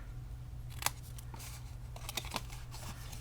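Sharp, crisp snips of scissors cutting paper, several quick cuts in a loose rhythm, close and fairly quiet over a low steady hum.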